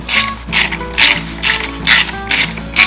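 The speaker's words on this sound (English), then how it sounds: "now we're going to take the bolts off the" Close, loud ratchet wrench clicking in six regular bursts while loosening oil pan bolts on a Massey Ferguson 231 tractor.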